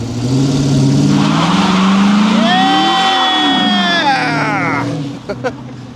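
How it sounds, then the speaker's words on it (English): A Dodge Magnum's engine roars loudly as the car does a burnout, with a sustained revving tone that climbs and then falls away. Voices shout and cheer over it. "Yeah, boy, do a burnout."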